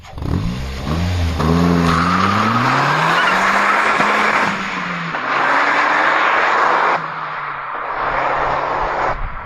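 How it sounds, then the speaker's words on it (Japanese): Car exhaust fitted with an aftermarket inner silencer under full-throttle acceleration, a loud continuous engine roar rising in pitch with a breathy hiss on top, briefly dipping between pulls, with tire squeal and birdsong mixed in. "後付けインナーサイレンサー独特のブシューって音が出ちゃってますね。"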